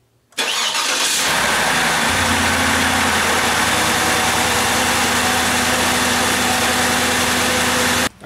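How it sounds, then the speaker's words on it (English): A Cadillac DTS engine cranks and catches after a brief silence, then settles into a steady, loud idle that runs until it cuts off at the end. "let's get the car started up and double check the oil."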